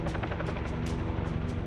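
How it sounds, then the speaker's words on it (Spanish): A helicopter near the erupting Kilauea volcano gives off a dense, steady rotor roar with rapid rhythmic chopping pulses, loud and continuous throughout. "¡Hay un helicóptero acercándose!"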